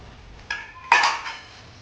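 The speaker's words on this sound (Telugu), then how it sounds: "ఇలా కలుపుతూ కలుపుతూ కలుపుతూ ఉండాలి" A spoon scrapes and clinks against a pot while sesame seeds and peanut powder are stirred together for laddu, two short metallic knocks close by, with no talking.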